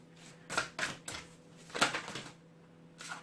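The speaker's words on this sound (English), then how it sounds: "So as part of the shuffle now, I am doing your spiritual card after I've done the shuffle for your main reading." Tarot cards being shuffled by hand during a reading, giving a few short papery riffles and taps in quick bursts, close and fairly soft, with no talk over them.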